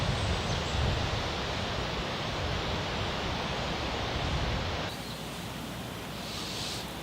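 Steady wind gusting outdoors on a breezy day during a bushcraft tinder-fire demonstration, a continuous broad rushing roar that eases slightly partway through, with no talking.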